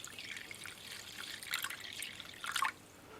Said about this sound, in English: Let's replenish the water, because a lot of it will have been evaporated.